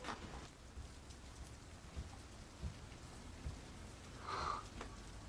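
Soft rain falls steadily, faint and distant, with a few dull drips and thuds and a brief high tone near the end.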